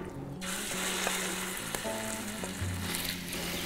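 Meat sizzling in hot oil in a pan while being browned for an Arab külbastı filling from Şanlıurfa's Akçakale, a steady close frying crackle with faint stirring and clinks.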